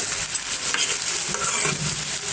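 Gima shak bhaji fries and gets stirred in a pan, giving a steady close sizzle with scraping spatula strokes throughout and no talking.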